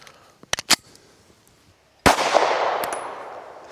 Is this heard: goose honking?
no